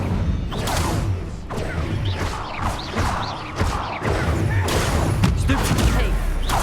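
Incendio fire spell combat effects in Hogwarts Legacy: a string of sharp magical bursts, thuds and crackling blasts in quick succession, loud and close, amid busy duel sounds.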